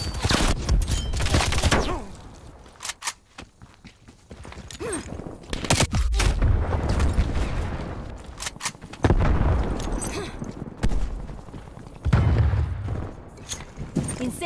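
A stun grenade goes off amid combat in the video game Call of Duty: Black Ops Cold War, with loud booms, bursts of gunfire and heavy thuds arriving in irregular clusters, close and forceful with brief lulls between.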